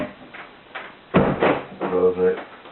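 A locked standard UPVC 60/40 door is unlocked and opened with a few close clunks and a rattling handle and latch movement, while a voice speaks throughout.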